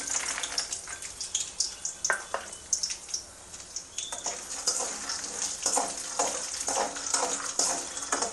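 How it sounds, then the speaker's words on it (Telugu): Mustard seeds and chana dal frying in hot oil on a medium flame for mango pulihora, with close crackling and popping bursts over a continuous sizzle. "ఆవాలు చిటపిటమనగానే శనగింజలు వేసుకోవాలి."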